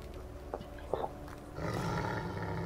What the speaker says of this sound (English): Uh-oh, sounds like wolves. Wolves with red eyes.